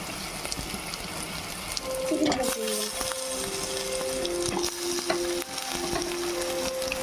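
A kilo of chicken pieces goes into a hot pan for a village-style chicken masala curry, giving a steady, close, broad frying sizzle with crackle throughout and a faint sustained tone partway through.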